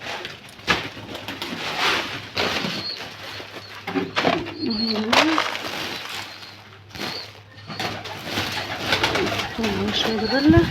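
Pigeons cooing at feeding time on a backyard poultry setup with turkeys and rabbits nearby, soft repeated coos mixed with bird calls and brief wing flaps, heard under someone talking throughout.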